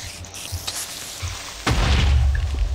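A Minecraft explosion lands as a sudden deep boom after a quiet stretch, then its rumble lingers loudly to the end.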